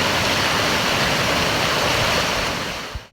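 A steady, full rush of a mountain waterfall near Muir Pass roars without a break, close and loud, then cuts off abruptly at the very end.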